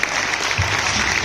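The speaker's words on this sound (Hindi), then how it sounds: "एक बार आशुतोष सोनी जी के लिए एक बार जोरदार तालियां बजा दें" Seminar audience in Prayagraj applauding, a dense steady wash of clapping that swells slightly midway and holds for over a second with no talk.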